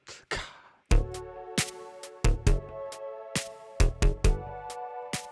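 Synthesized drum hits built from an oscillator tone and a white-noise transient, with a sweeping filter and hall reverb, strike in an irregular pattern of about a dozen sharp, loud hits, each leaving a ringing tonal tail.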